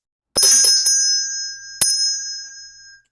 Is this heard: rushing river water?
no